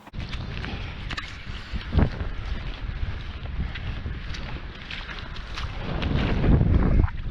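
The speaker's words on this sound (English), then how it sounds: "there's quite a wind blowing from up there" Wind gusts across a fishing beach, buffeting the microphone with a steady low rumble and occasional stronger thumps, loud and close, with no talking.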